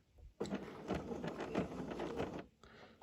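A sewing machine runs in a short burst as it stitches up from a fabric corner, a close, fast, even mechanical chatter starting abruptly and stopping after about two seconds, quiet overall.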